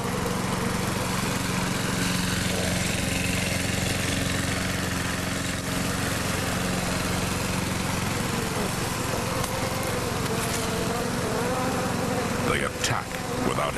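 A lawn mower engine drones steadily and continuously at moderate volume outdoors in the southern United States, with faint clatter near the end.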